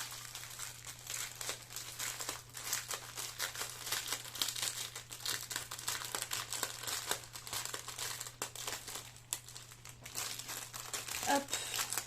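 Crinkly plastic packaging of an AB drill diamond painting kit is opened by hand, giving continuous close crinkling and rustling with brief tearing sounds, faint and without any talking.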